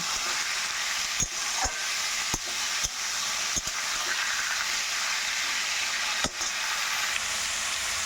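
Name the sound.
ash gourd pieces frying and being stirred in pan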